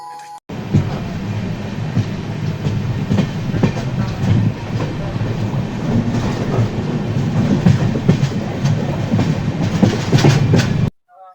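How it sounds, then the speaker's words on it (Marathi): A train pulls out of Latur and runs steadily, a continuous rumble with rhythmic wheel clatter and rattling carriages heard from inside, loud and unbroken for most of the stretch. "फायनली आपली ट्रेन स्टार्ट झालेली आहे पुण्याच्या जर्नीसाठी"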